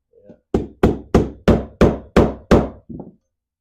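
A socket is pressed against a seal in a vintage British motorcycle part, making seven loud, evenly spaced metallic thuds about a third of a second apart, with a softer knock before and after.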